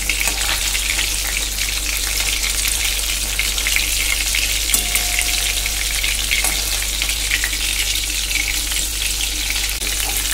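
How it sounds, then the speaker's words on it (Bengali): Lentil fritters made with Bombay duck fish and ground pea lentils fry steadily in hot oil, a dense continuous close sizzle with a low hum underneath. "ভাজা করছি।"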